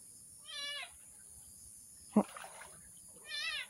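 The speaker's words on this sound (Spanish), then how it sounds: "Ah, el gato era. Me pegó un susto." A cat meows at a run-down, abandoned house, two short harmonic cries about three seconds apart, fairly near and clear, with a sharp knock and brief rustling between them.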